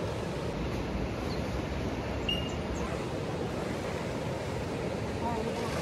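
Floodwaters of the swollen Hawkesbury River near Sydney rush past trees in a steady, broad roar that holds constant throughout, with wind buffeting the microphone and no voices over it.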